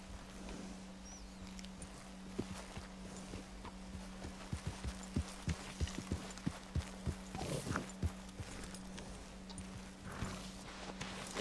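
Horse hooves clip-clop at a walking pace in the Red Dead Redemption 2 video game, a soft steady rhythm of hoofbeats over a low background hum.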